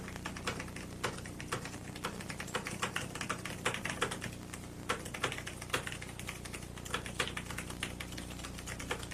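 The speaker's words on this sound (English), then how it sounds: "he is furiously hammering those keys on his word processor" Rapid, furious typing on a word processor keyboard, dense irregular clacking keystrokes close up and continuous, with no voices.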